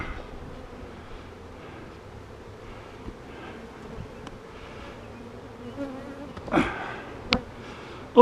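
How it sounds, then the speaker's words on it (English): Honey bees buzz steadily around a newly installed nuc hive, a dense, continuous hum close by, with a couple of brief louder passes as individual bees fly near. "They're bringing in I see 2 bees bringing in pollen"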